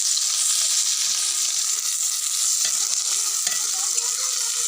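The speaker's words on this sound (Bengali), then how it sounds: "ডাল রান্না করবো, ওই জন্য ফোড়ন দিয়ে দেবো। আদা, রসুন, পেঁয়াজ আর জিরে আর দুটো শুকনো লঙ্কা।" Ginger, garlic, onion, cumin and two dried chillies sizzle in hot oil as a tempering for dal, a loud, steady, continuous frying hiss with no pauses.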